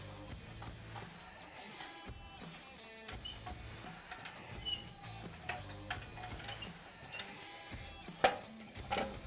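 A ratchet wrench clicks through the exhaust header bolts on a Polaris RZR XP 1000 during engine removal, a faint series of ticking strokes with occasional sharper knocks close by.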